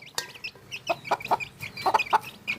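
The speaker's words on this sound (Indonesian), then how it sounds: "Nah, ini ayamnya." Backyard chickens cluck in a short irregular run of soft close clucks, moderately quiet, with no talking over them.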